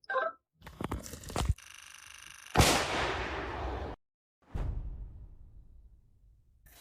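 Artillery shells fired at a concentration of Russian assault troops gathering at a farm, heard as heavy booming blasts with long rolling decay, a sharp loud impact mid-clip followed by another distant thud, no talk.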